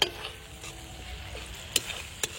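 Onion, green chilli, ginger and garlic fry softly in a pan while a utensil stirs them, giving a quiet sizzle broken by a few sharp scraping clicks against the metal.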